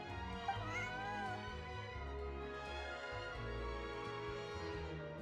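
A cat meowing in the Genshin Impact video game: a few soft, drawn-out meows over a steady musical game soundtrack, fairly faint and without speech.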